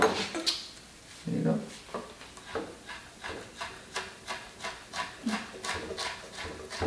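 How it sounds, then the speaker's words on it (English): Knife chopping fresh parsley on a cutting board in a home kitchen, with a steady run of short, close taps spaced about half a second apart and a few heavier knocks near the start. "So now we're gonna chop this parsley."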